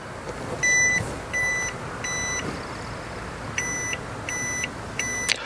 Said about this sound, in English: So those first 3 beeps were it copying the files.